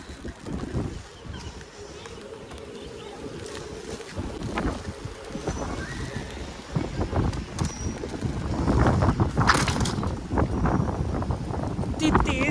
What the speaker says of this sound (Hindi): इतनी तेज़ हवा आई है कि पूरा मुड़ गया है मेरा छाता।